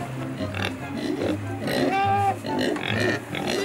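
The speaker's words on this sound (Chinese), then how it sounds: "小猪仔。" Piglets grunt and oink close by at a farm in Gannan, China, in short repeated low grunts with one brief higher squeal, while people talk faintly nearby.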